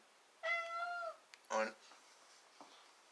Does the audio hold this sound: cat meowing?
yes